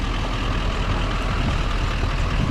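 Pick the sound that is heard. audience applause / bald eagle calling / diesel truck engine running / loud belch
diesel truck engine running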